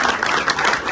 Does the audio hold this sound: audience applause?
yes